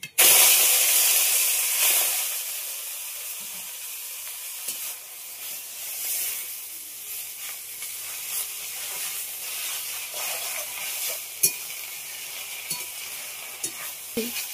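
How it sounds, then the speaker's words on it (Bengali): Susni greens hit hot oil with a dried red chilli and mustard seeds, a loud hissing sizzle at first that settles into a steady crackle with scraping stirs and occasional clinks, close up. "বন্ধুরা এই শাকটা ভাজা হচ্ছে আর এই চিজনি শাকটা ভাজা হচ্ছে।"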